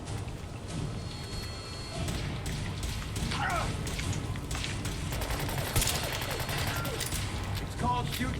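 Gunfire in Fallout 4 crackles in rapid bursts over a constant rumbling game soundscape, with sharp shots clustering and repeating throughout.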